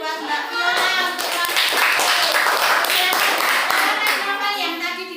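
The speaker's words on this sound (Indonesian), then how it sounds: "Tepuk tangan buat Mbak Viola untuk" A classroom of children claps together in a steady burst of rhythmic hand claps, close and fairly loud, with children's voices mixed in.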